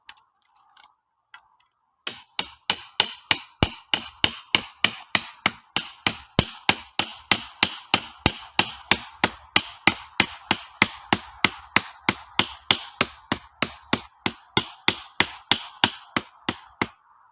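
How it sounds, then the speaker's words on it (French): Sharp metallic hammer blows strike at a steady, brisk rhythm, dozens in a row, close and loud, after a couple of scattered taps at the start, while building a hedgehog shelter. "Il va me falloir le marteau qui est à mes pieds."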